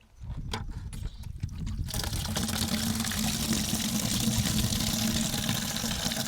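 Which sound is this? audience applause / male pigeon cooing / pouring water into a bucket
pouring water into a bucket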